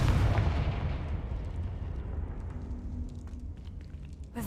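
In the video game Hogwarts Legacy, a Confringo fire spell explodes with a deep, loud boom. The rumble decays slowly over several seconds, and no one speaks.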